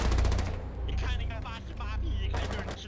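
Bursts of rapid gunfire in a shooting video game, loud and close, with excited voices talking over the shots.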